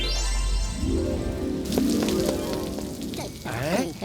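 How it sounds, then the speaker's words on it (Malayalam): Cartoon rain pours steadily in a Malayalam kids' animated robot show, a dense hiss of drops running under speech and music tones throughout. "നല്ല ഉഗ്രം മഴ പെയ്തുകൊണ്ടിരിക്കുക"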